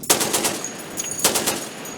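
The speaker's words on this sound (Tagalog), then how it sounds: "Ito kasi medyo mabigat to itong gagamitin nila heavy machine gun." A heavy machine gun fires from a navy ship during a gunnery exercise, sending loud rapid bursts of shots that rattle in quick succession, with a brief pause between two volleys.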